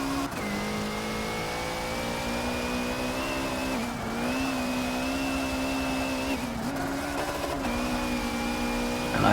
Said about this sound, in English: I misshift there, redline the car for a bit